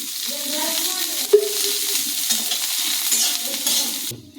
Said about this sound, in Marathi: आपण लसूणच्या पाकळ्या टाकू आणि त्यानंतर खिसलेलं खोबरं टाकू आणि हे सुद्धा भाजून घेऊ चांगलं